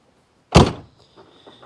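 The door of a 1977 Corvette shuts with a single sharp, close thump, followed by faint rattles and small knocks from the car.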